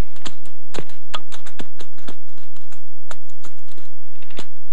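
Irregular sharp taps and clicks, close and dry, scattered across the clip, imitating whitetail deer hooves striking hard ground, with no talking.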